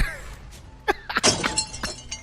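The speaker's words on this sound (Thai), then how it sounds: "ดาเมจโคตรแรงยิงทีเดียวสะพานขาด" A bridge in the Roblox War Tycoon game shatters after one T14 tank cannon shot, a burst of crashing, cracking debris impacts in quick irregular succession at moderate loudness.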